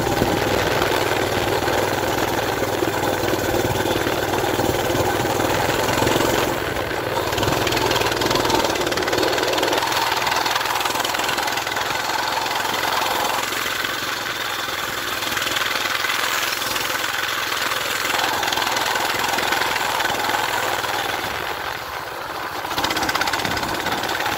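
A bone-stock Coleman BT200X mini bike's small engine runs continuously close by during a ride, droning with steady loudness, its pitch shifting slightly as the throttle changes, with faint wind rumble underneath.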